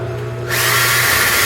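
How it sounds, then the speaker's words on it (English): A power drill whirs up to speed while drilling holes in an antler, a close, loud high-pitched whine that starts abruptly and holds steady. "I quickly start putting pins in as soon as I drill my first hole."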